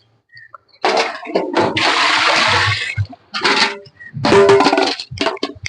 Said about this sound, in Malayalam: ഞാൻ വെള്ളം നിറയ്ക്കുകയാണ്.